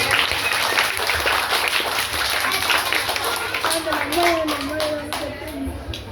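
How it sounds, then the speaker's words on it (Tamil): Children at a school quiz competition clap for a student, a loud, busy run of many hands with a voice speaking partway through and chatter mixed in. "சமிகாவுக்கு ஒரு பலத்தை கைதட்டுங்க"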